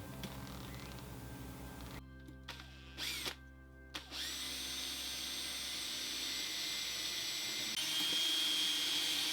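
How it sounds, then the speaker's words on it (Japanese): A power drill whines steadily, stopping briefly a couple of times before running again in a long, continuous, close-up bore, drilling a 5 mm hole in a jig fence part. "5ミリの穴を開けます。"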